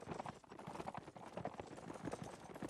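Heavy cavalry horses in Mount and Blade move out across a battlefield, a faint, rapid patter of hooves clip-clopping in an irregular rhythm.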